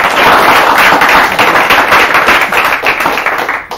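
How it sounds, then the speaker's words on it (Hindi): Studio audience applause after a correct answer on an Urdu-language literary quiz show, a dense, steady wash of many hands clapping at close range for several seconds before tapering off slightly at the end. "इनके लिए अच्छी तरह से ताली बजाइए।"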